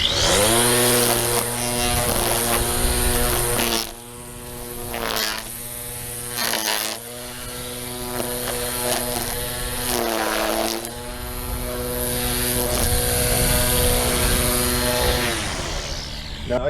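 A string trimmer cutting grass around a PVC mailbox post, running loud and near with a steady buzzing whine that dips briefly a few times as it works around the post, continuous throughout with no voices.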